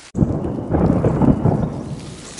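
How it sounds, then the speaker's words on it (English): Rolling thunder rumbles low and steady through a summer vegetable garden among squash plants, a continuous deep roar lasting a couple of seconds with no talk over it. "Yep, it's thundering."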